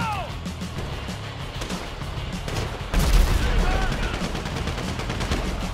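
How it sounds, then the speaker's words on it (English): Gunfire in GTA 5 (Grand Theft Auto V), first-person juggernaut suit gameplay on PS4, as a dense, continuous stream of shots with a louder burst partway through, under game ambience and voices. "So I guess we're shooting our way out of here!"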